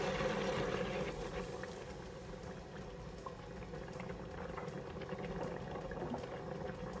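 Pineapple juice pours into the pot of a Crockpot Express pressure cooker as a soft, steady liquid gush with faint bubbling, quiet and close, lasting several seconds without speech.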